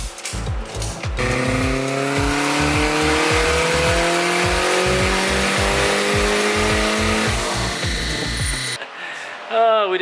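A tuned car engine with a boost controller revs hard on a dyno, loud and sustained, with rising harmonic tones over rhythmic low pulsing, then cuts off near the end.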